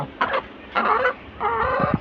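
A chicken clucks close by in three short bursts, separated by brief pauses.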